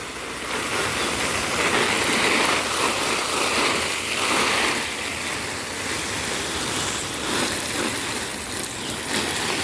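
Water pours continuously onto a plant's leaves and base, a steady close splashing and hissing spray that lasts throughout.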